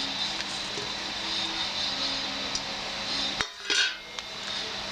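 Chicken pieces and salt tip from a strainer bowl into another bowl, bringing metal clinks and a sharp clatter of dishes against a steady hiss, with one louder knock near the end.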